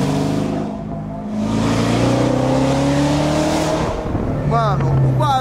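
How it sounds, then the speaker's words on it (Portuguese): A V8 Corvette convertible's engine drones and revs steadily, loud and close, its pitch climbing slowly, with a brief voice near the end. "o barulho do V8 é muito massa"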